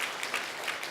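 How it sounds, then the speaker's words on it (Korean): A church congregation bursts into applause, a brief dense wash of clapping hands with no voices over it. "크게 우리 한번 격려의 박수 부탁합니다"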